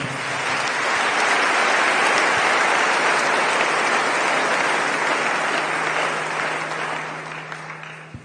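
A church congregation applauding during a French-language sermon, a dense, steady wash of clapping that holds at full strength for most of the stretch before easing slightly near the end, with no talk over it.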